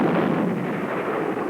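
A HARP space cannon, a huge gun built to fire probes into space, booms in a sustained, loud, rumbling roar that fills the whole moment with dense low energy and no voices.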